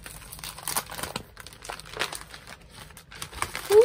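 Birthday gift wrapping paper crinkles and rustles up close as it is handled, in irregular crackling bursts that grow louder toward the end.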